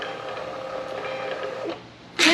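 A home label printer runs off a shipping label with a steady mechanical whirring hum for about two seconds, then ends with a short, sharp burst.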